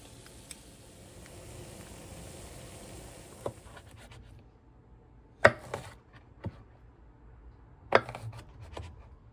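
Blanched asparagus gets cut on a board in a home kitchen with a few distinct knife chops, isolated and irregular, after a quiet stretch of faint rubbing and handling sounds.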